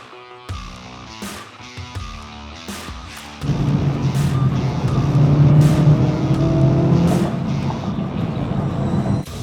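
A Honda Civic Type R FL5, the last pure-petrol Type R, drives off on a test run; after some light knocks the engine swells into a loud, steady drone that builds and holds close by.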